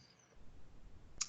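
A computer mouse double-clicks in ChemDraw software: after a quiet stretch of faint room hum, a sharp, close pair of clicks lands near the very end.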